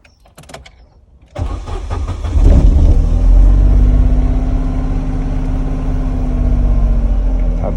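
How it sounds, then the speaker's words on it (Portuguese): A Chevrolet Corsa's starter cranks with the fuel pump fuse pulled, following a faint click, then a sustained loud rhythmic churning whir that keeps going without catching, heard up close. "Vou então dar partida no carro, a pressão vai cair, já que a bomba vai estar desligada."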